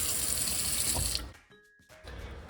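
Tap water runs into a container at a sink in a first-grade art room, a steady rushing stream that stops after about a second, followed by quiet clinks and a soft resumed hiss.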